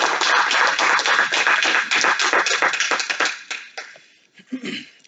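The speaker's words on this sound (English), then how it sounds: "Let's have a big round of applause for Ben Sima." Audience applause at a talk on a categorical theory of patches, dense steady clapping from a room of listeners that thins into a few scattered claps and fades out toward the end.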